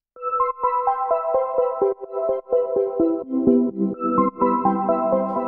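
A simple Ableton Operator FM synth patch built from sine waves and a square wave plays a plucky, bell-like melodic sequence of short repeated notes, clean and moderately loud with no voices.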